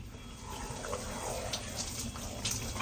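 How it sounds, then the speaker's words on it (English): Shower water runs steadily with a dense, even hiss, close and continuous throughout, with no voices over it. "This shower feels so damn good."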